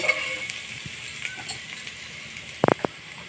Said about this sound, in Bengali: দিয়ে দেবো পেঁচ কুচি পরিমাণ মতো দিয়ে ভালো করে ভেজে নিব